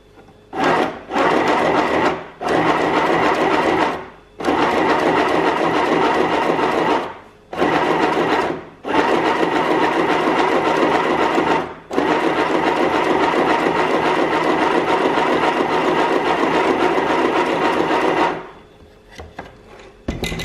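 A HobbyCraft Midi sewing machine stitches a test piece of fabric, running in loud, close bursts of rapid mechanical whirring broken by short pauses, with one long continuous run near the end.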